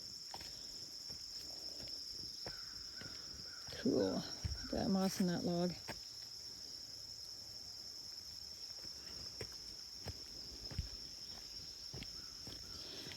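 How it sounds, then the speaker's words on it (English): Crickets keep up a steady, high, continuous chirping on a woodland nature hike. Someone speaks briefly, and soft footsteps and rustling pass under the insect chorus. "Okay, those are crickets. Some kind of noisy insects anyway."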